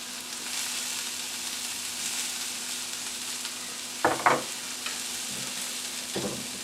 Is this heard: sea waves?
no